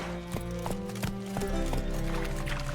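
A horse in The Witcher 3 gallops with rapid, rhythmic hoofbeats, each strike sharp and close, set over a droning game music backdrop.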